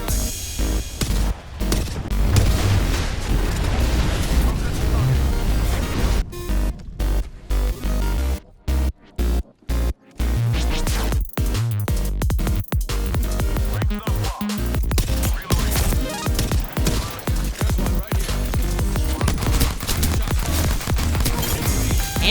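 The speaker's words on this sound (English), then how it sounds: "Watch an airstrike." Airstrike in a battle royale video game, loud repeated explosions and gunfire booming in clusters, with several sharp breaks near the middle before the blasts continue steadily.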